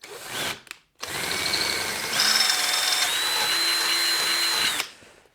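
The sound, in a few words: power drill boring an 8mm hole through a DRZ400 motorcycle part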